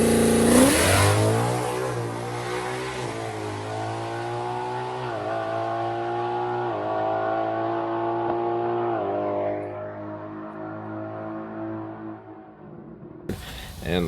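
Slim Jim, a naturally aspirated record-setting race car, revs its engine up into a loud, close, sustained drone that wavers through several pitch steps before dropping away, with a brief clatter at the end.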